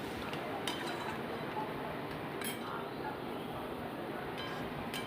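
An onion spice paste with salt and turmeric fries in a pan and is stirred for a potato and pointed gourd curry, giving a steady low sizzle with light clinks of a utensil against the pan.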